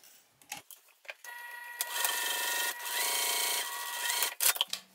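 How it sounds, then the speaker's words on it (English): A sewing machine runs steadily while stitching a straight seam along a fabric edge, with a brief start, a long continuous whir, and a few clicks at the end. "I'm going to sew down this straight edge with the seam allowance given in the pattern"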